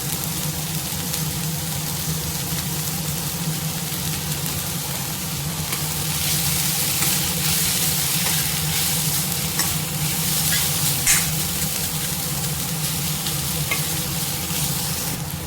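Salted capsicum is stir-fried in a pan as a side dish for chapati, giving a loud continuous sizzle with an ongoing stirring scrape that swells midway and carries a few sharp clinks, close up, with no speech.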